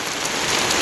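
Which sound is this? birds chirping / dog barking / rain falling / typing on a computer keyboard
rain falling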